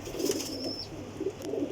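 A large golden pigeon coos twice in low, soft, close calls over a faint background hum.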